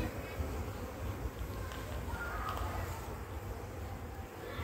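Honeybees buzzing around a comb frame lifted out of a mini hive in an apiary, a steady dense hum with outdoor background noise throughout.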